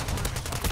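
Rapid automatic gunfire from a TR-76 Geist rifle in Call of Duty MW3 rattles in a dense, loud burst of closely spaced shots.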